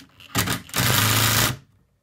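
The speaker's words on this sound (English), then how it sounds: "Then it's just a matter of putting in the screw and driving it home." A power driver sends a screw into wood during a furniture repair: a short burst, a brief pause, then a sustained loud whirring run of about a second that cuts off sharply into quiet.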